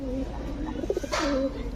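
A Gola pigeon gives a low, rolling coo nearby, with a voice speaking at the same time.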